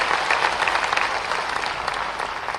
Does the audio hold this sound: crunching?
no